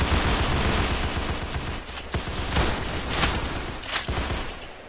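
Dense, continuous gunfire in the video game Arsenal, a muffled rattle of overlapping shots with a few sharper cracks standing out.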